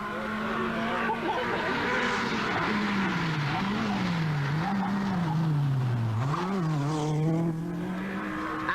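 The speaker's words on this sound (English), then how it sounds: "using every inch of the road in the World Championship winning Peugeot 205 Turbo 16" A Peugeot 205 Turbo 16 Group B rally car is driven hard on a closed road stage at the 1986 Manx Rally, its engine loud and close with a wavering pitch that rises and falls through gear changes.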